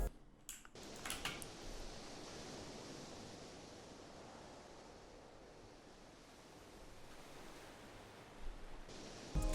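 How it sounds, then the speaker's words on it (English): Steady rushing wash of ocean surf layered into a music beat, a continuous hiss of breaking waves with a gentle swell and no voices. "Nobody noticed the ocean sound on the beat."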